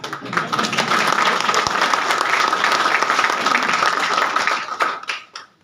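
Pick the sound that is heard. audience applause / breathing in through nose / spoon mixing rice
audience applause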